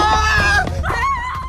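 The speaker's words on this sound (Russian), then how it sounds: "для записи криков испуганных жителей Дейла" Screams of frightened townspeople fleeing a dragon, recorded as film sound effects: a loud burst of overlapping high-pitched shrieks and wails from several voices, close and continuous.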